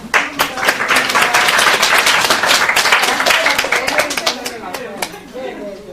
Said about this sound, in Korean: 자, 박수로.